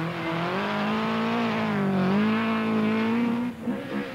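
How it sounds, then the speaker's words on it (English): Vauxhall Chevette rally car driving on a stage, a single engine holding a strong steady drone that rises and falls slightly before dropping off near the end, close and loud with no talk. "Tony Pond in the Vauxhall Chevette."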